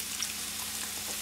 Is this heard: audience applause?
no